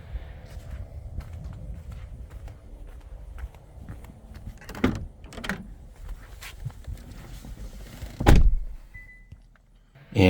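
A car door opens and closes as someone climbs in beside an EV charger, with a low rumble and a sharp thud near the end, heard alone without speech.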